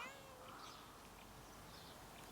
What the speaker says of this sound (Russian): Мяукает кто, ты или она?